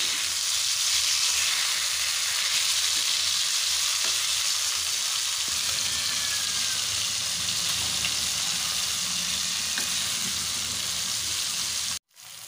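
Rava-coated fish pieces shallow-frying in hot oil, a steady close crackling sizzle that holds throughout with occasional pops, briefly cutting out near the end.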